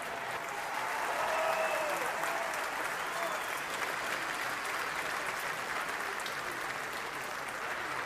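A packed stadium crowd at Minute Maid Park, Houston, applauds and cheers for a Houston firefighter captain, a broad, steady roar of clapping that swells early and holds at an even level throughout.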